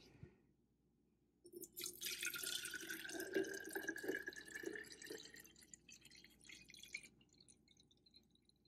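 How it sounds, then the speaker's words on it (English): Water poured from a tap into a plastic bottle, starting after a quiet moment, with a gurgling fill whose pitch rises as the bottle fills, then stops abruptly and leaves faint drips. "I'm going to fill it with water."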